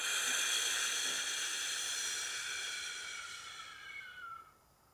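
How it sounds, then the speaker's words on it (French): A long, deep breath drawn in through the nose, as in abdominal breathing practice, heard close up as a steady airy hiss that fades out after about four seconds. "J'inspire par le nez en sortant le ventre."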